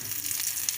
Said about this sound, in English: We'll just fry till the onion becomes brown.